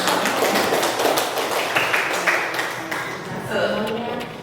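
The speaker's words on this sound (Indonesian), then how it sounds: "Kita beri aplaus semuanya" A classroom audience claps for student groups who have just finished presenting, a spread of light, patchy hand claps running throughout with a voice speaking over them.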